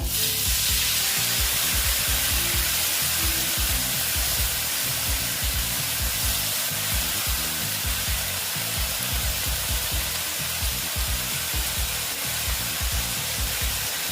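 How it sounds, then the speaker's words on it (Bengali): Water added to a pan of frying bitter gourd, potato and pumpkin, producing a loud, continuous hissing sizzle with steady bubbling crackle that holds unchanged throughout, close by and with no talking. "দিয়ে আমি এখানে একটু জল এড করে দিচ্ছি দেখো"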